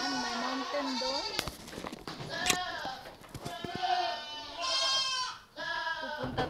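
Goats bleat repeatedly at a farm goat house, several loud, wavering calls close by with short gaps between them.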